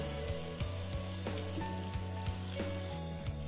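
Ginger-garlic paste frying in hot oil gives a continuous, even sizzle that sits under a louder, steady tonal drone resembling background music.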